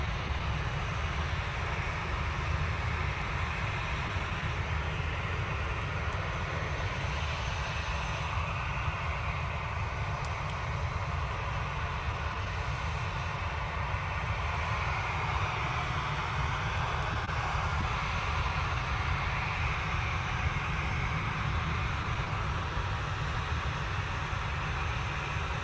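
A Ryanair airliner departing Manchester Airport for Berlin produces a long, steady engine rumble and rush that stays moderate and unbroken, swelling slightly midway, with no speech.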